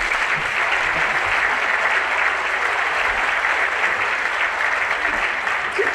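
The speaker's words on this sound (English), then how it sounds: "Let's give him a round of applause." Steady, dense applause fills a graduation hall as the audience claps continuously for several seconds, loud and even, with no voice rising above it.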